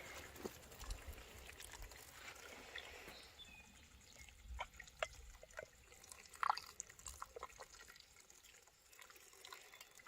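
Water is poured over dehydrated potatoes to rehydrate them, a quiet run of trickling and dripping with small splashes, with no talk.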